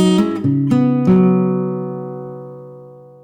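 A few plucked guitar notes in quick succession, thumb-played bass notes mixed with higher strings, then left ringing and slowly fading, played solo up close: the introduction to a song.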